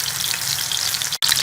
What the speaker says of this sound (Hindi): अब हम साथ साथ बनाते जाएंगे, ऐसे फ्राई करते जाएंगे।